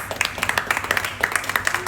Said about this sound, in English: can we just applaud ourselves?